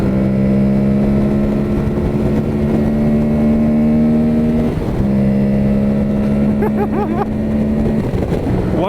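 A Yamaha Tenere 660 (Tuareg 660) single-cylinder engine revs hard on an off-road ride, holding a steady high drone, dipping briefly around midway, then climbing again with wind rush and rider chatter mixed in.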